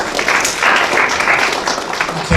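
An audience gives a small, light round of clapping for a child's little scooter stunt, scattered claps at a moderate level that stop near the end.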